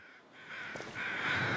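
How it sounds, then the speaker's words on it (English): Crows caw in The Long Dark, a few harsh calls rising over a steady wind-like background in a snowy survival game, moderately loud and without voices. "Definitely not weather crows"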